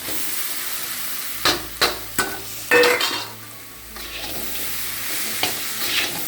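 Drumstick flowers fry and get stirred in a pan, sharp scraping clinks of a spoon against the metal standing out in a quick run over a steady close sizzle, with no talking.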